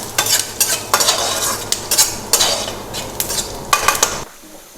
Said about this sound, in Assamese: নহৰুখিনি ভাজিছে